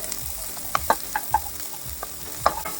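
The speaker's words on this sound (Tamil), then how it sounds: "ஒரு டேபிள்ஸ்பூன் எண்ணெய் ஊற்றிட்டு ஒரு நறுக்கி வச்சுருக்கிற வெங்காயத்தை வந்து ஃப்ரை பண்ண ஆரம்பிச்சிடலாம்." Light sizzling in a pan with several clinks and scrapes of a spoon stirring, irregular and close, with no talking.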